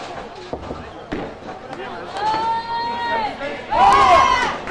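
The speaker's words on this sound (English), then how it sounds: "crowd from Ukraine is really cheering now" A Ukrainian crowd cheers at a youth competition, with rising bursts of shouts and whistles that swell toward the end and a commentator talking over them.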